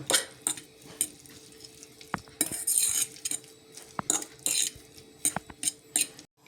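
Korean-style carrot salad with soy sauce being stirred, utensils clinking and scraping against a bowl in a quick, uneven run of close, moderately loud taps and rattles, with no voices.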